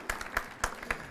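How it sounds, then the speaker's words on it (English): A few sparse, isolated hand claps at a veterans center grand opening, faint and spaced irregularly over about a second in a quiet room. "You can applaud."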